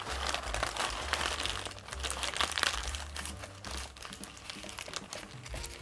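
Steady crinkling and rustling comes from hands shaping a knitted decorative pumpkin, a close, continuous papery scratching with a soft low hum beneath and no talking.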